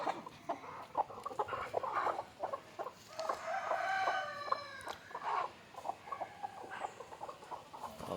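Native country chickens, a hen among them, cluck in repeated short bursts close by, with a brief crow-like call rising in the middle, alone with no voices.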